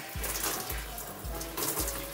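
Water running during a hair wash, rinsing out twists on type 4 hair, a close splashing flow with a faint rhythmic low thump repeating about every half second.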